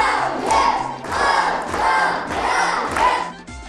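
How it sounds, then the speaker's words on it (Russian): A group gives a loud ovation for the winner of a weight class at the Russian taekwondo championship. It comes as rhythmic bursts of shouted cheering, about four waves of collective yelling that rise and fall. "Ему тут же устроили овацию."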